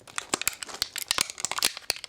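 Plastic packaging crinkles and crackles in quick, irregular bursts as a Schleich dinosaur figure is pulled free during unboxing, close and fairly soft.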